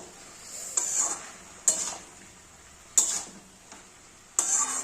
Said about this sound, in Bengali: আমি একটু আদা বাটা এখানে দিয়ে একটু কষাবো